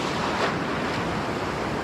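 Ocean surf breaking over a reef along a shoreline, a loud continuous wash of churning water with wind buffeting the microphone.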